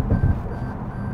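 A 2019 Toyota Camry XSE V6 sounds its lane departure alert inside the cabin: a short, clear electronic beep over low road noise, with no talking.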